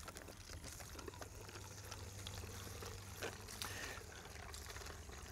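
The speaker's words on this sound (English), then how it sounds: "you'll need to pump about a third of a bottle of water" Water pumped through an MSR Guardian purifier trickling and splashing into a bottle, a continuous faint liquid stream with small gurgles, close but quiet.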